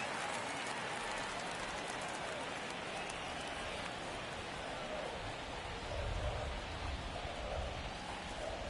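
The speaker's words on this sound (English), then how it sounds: "It's been raining since the jump here in Chicago, but we haven't had a delay" Rain falling on a Chicago ballpark in a baseball video game, a steady broadband hiss of rainfall with faint crowd murmur underneath, constant and even throughout.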